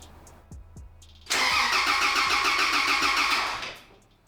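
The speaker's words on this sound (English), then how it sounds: "It sounds good when it's cranking over" A rebuilt Toyota Land Cruiser engine cranks over after a few faint clicks, a loud steady rhythmic churning from the starter that holds for a couple of seconds, then fades away, with no voices.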